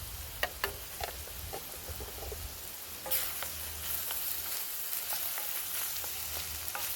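Onions frying in a pan at a wild camp, a steady close sizzle with occasional stirring clicks and scrapes, continuous and fairly quiet.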